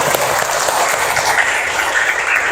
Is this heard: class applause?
yes